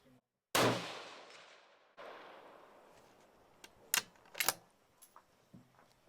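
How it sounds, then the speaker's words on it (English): Rifle shots from a Mini-x fired outdoors at a 200-yard target: one loud sharp crack early on with a decaying tail, another report later, and a few fainter clicks and clatters as the rifle is handled, with no talk. "Now we're going to shoot at 200 yards."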